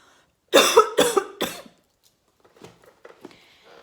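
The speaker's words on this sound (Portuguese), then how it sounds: "Corta essa parte que eu vou tossir." A few loud, harsh coughs in quick succession, close by, followed by quieter shuffling and faint rustling.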